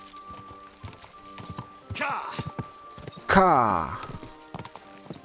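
Horse hooves clip-clop in Kingdom Come Deliverance 2, a few soft scattered steps with two louder neighing bursts in the middle, while a player speaks briefly over them.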